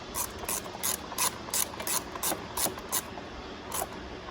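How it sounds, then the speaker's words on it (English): A 1/4 inch drive ratchet turning a T25 bit on an aluminum housing near fuel injectors clicks in quick, regular bursts of sharp pawl ticks, close and fairly quiet, with no talking. "now we're using our 1/4 inch drive ratchet and our T25"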